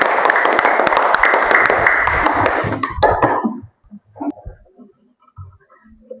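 A school class claps together in a classroom, a few seconds of fairly loud, busy applause that thins and stops, followed by near quiet with a couple of small noises and a cough.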